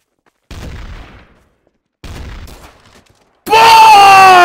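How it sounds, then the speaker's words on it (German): Gunfire in the game Trouble in Terrorist Town: two loud shot bursts with decaying tails a second or so apart, then a sudden loud harsh burst at the end. "Oh, ein schöner Schuss."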